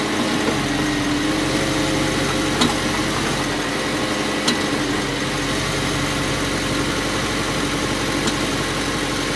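A 2009 Volkswagen Touareg engine idles steadily with a constant low hum and vibration while the transmission is shifted through the gears during a fluid flush, loud and continuous with no talk.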